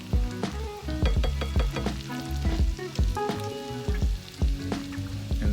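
Minced garlic sizzling in melted butter in a pan, a steady close crackle broken by frequent clinks and taps of a utensil, with a tonal background running underneath.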